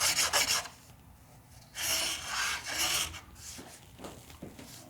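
Rasp with CNC-cut teeth trimming carbon fiber on a guitar headstock repair, giving close, loud rasping strokes in a few bursts, with quieter scraping between them.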